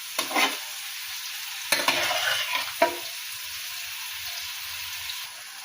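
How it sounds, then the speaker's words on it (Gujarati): Paneer frying in groundnut oil until golden brown gives a soft, steady sizzle with a few sharp stirring clatters near the start. "ગોલ્ડન બ્રાઉન થાય ત્યાં સુધી આપણે પનીરને શેકી લેવાનું છે।"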